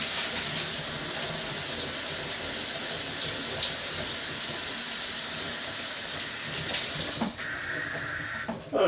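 Running tap water splashes steadily over rice being rinsed in a sink to wash off starch, a continuous broadband rush with a few clunks and shifts near the end.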